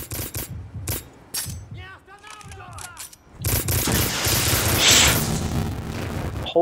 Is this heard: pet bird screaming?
no